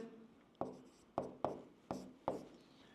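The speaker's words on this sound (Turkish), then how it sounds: "Şunu o zaman ben bir yazayım." Pen or marker strokes on a board or paper while working a probability problem in a math lesson, five sharp taps and scrapes spaced about half a second apart, close and fairly quiet with no talk.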